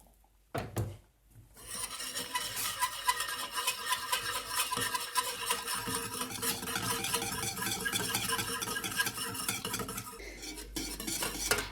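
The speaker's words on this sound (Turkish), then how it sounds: "Hemen çırpıyorum. Azar azar ilave edeceğim suyu." A whisk clatters quickly and steadily against a metal pot while hot water is gradually added to a Turkish flour soup, a close, continuous scraping and clinking that runs for about ten seconds.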